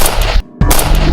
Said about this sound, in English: Gunfire boomed in the narrow alley.